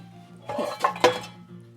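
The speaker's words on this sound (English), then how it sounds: "I'm gonna get a little pan out." A small pan is pulled out in a kitchen, with a few bright metallic clinks and knocks against other cookware, close and brief over a steady low hum.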